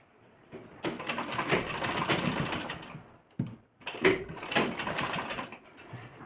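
Sewing machine stitching a zip onto a lehenga blouse, two close bursts of rapid needle rattle separated by a short pause.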